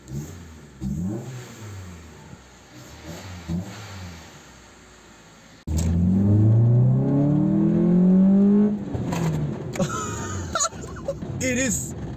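A Honda car engine with a newly fitted exhaust revs hard toward 7000 RPM, rising in a loud, close sweep after a quieter idle, with someone talking over the opening seconds.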